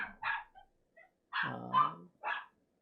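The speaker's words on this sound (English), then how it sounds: "Oh, quiet dogs," Indoor dogs barking nearby during a keyboard build, four or five sharp barks and a yip in uneven bursts with short gaps, fairly faint against a quiet room.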